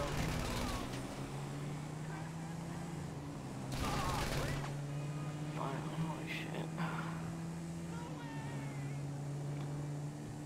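Rapid gunfire bursts in an online shooter video game, crackling volleys near the start and around the four-second mark over a steady engine hum, with someone talking.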